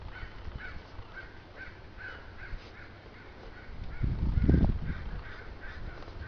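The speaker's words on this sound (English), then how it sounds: "Got the crows talking about what I'm doing. They don't like it." Crows caw repeatedly outside a house, a series of harsh calls at a moderate distance. Partway through, a nearby low rumbling thump builds and fades beneath them, and no one speaks.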